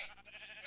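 A single sheep bleat from Minecraft, a short nasal wavering cry, fairly soft and heard alone.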